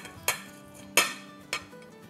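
Kebabs being served from a pan onto a plate in a home kitchen, with three sharp clinks of utensil against dishware spaced about half a second apart, close and fairly quiet, with no talking.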